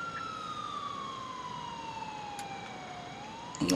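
Police car sirens wail in GTA 4, a single continuous tone sweeping slowly downward at moderate distance over low traffic rumble, with a burst of louder noise at the very end.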